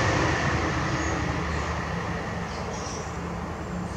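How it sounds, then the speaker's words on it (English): Train passing near a bald eagle's perch on a bare branch, a broad steady rumble of rolling wagons that eases slightly toward the end, with no voices. "Train going by."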